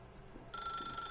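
A telephone in The Stanley Parable starts ringing halfway through, a steady electronic bell tone, loud and close over a quiet room hum.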